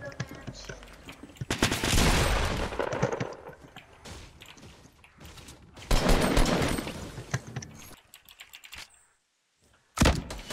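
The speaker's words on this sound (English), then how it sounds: "Lots of gunfire." Fortnite gameplay gunfire comes in two loud bursts of rapid shots separated by quieter stretches of scattered clicks and thuds, ending with a sudden drop to near silence before one last sharp burst.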